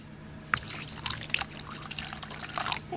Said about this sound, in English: your water dish needs refilling